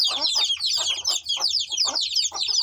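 Chickens on a rooftop farm clucking close and busy, overlapping short clucks and chatter in quick bursts with a faint low hum beneath.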